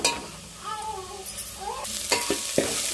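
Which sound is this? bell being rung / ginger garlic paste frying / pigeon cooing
ginger garlic paste frying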